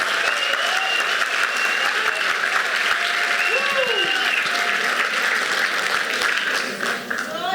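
A church congregation bursts into strong, sustained applause after a sermon passage, with faint voices and singing tones drifting beneath the clapping.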